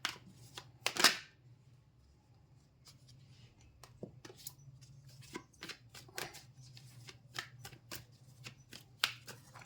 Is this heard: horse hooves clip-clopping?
no